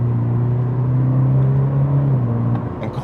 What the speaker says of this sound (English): You try out these paddle shifters,